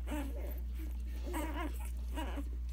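A newborn puppy whimpers while nursing: three short, faint, high-pitched whining bursts over a steady low hum.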